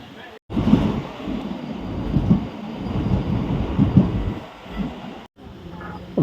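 A passenger train on the Pondicherry to Chennai run rumbles along with a steady clatter and rhythmic wheel thumps over rail joints, heard from inside the carriage with faint background voices.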